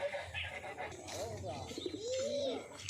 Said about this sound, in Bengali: পায়রা দুটো হেভি কোয়ালিটির পায়রা, হাই ফ্লাই